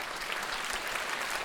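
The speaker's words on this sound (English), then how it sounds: "let's give them a round of applause for supporting this event" Steady audience applause at a Chicago wellness forum on multiple sclerosis, a dense, even wash of many hands clapping for event sponsors, fairly soft and continuous throughout the short stretch.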